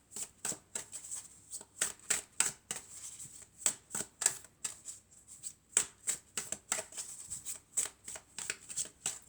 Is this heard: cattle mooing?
no